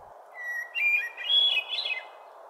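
Hermit thrush song rings out alone, a clear fluting phrase rising through several pitched whistled notes over steady background hiss, moderately loud and close.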